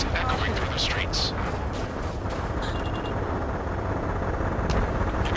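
A city under martial law in the Ace Combat 7 game: a dense, continuous roar of jet engines mixed with rumbling gunfire and explosions, loud and unbroken throughout, with a few sharp bright bursts near the start.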